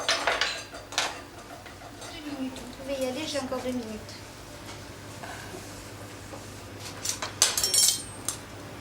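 Metal cookware clanks and clinks several times as a lid goes onto a pot of boiling fish broth, sharp clattering bursts at the start and end, with a voice speaking between them.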